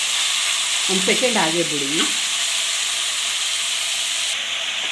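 Mutton frying in a pan while being stirred, a steady close sizzle and hiss throughout with a spoken phrase briefly over it early on.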